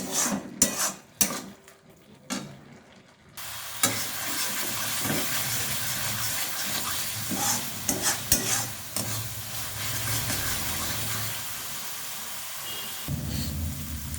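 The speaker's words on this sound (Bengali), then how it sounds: "মশলাটা আমি সুন্দরভাবে কষিয়ে নিয়েছি।" Masala for a Bengali fish curry being stirred and sautéed in a pan: steady close sizzling and frying hiss with repeated scraping and clinks of a utensil against the pan. Stronger spoon knocks come early, with no talking.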